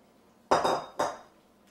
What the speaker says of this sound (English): Just going to mix it all together.